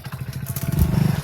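A motorcycle engine runs close by with a low, steady, pulsing rumble that grows slightly louder toward the end, and no voices are heard.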